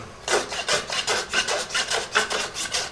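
A Friesian horse's hoof is rasped along the edge to bevel it, giving a steady rhythmic series of about a dozen close, loud scraping strokes with no talk.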